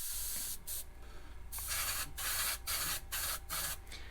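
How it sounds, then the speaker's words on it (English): An airbrush or spray can coats a fishing lure painted as a bluegill in short repeated hissing bursts with brief gaps between them, close and fairly loud, with no talking. "I'm going to go ahead and spray that."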